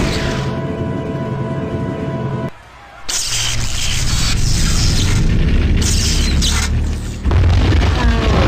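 Galactus's energy blast detonating in the Marvel Ultimate Alliance video game: a loud, sustained booming roar after a brief lull, rumbling heavily, then a fresh loud burst near the end.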